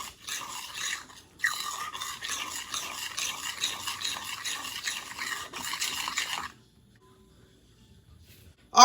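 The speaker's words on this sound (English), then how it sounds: "give it a quick stir until everything is well combined" Quick stirring of a no-churn butter pecan ice cream mixture in a bowl, steady scraping and swishing strokes for about six seconds, close and clear, followed by near silence.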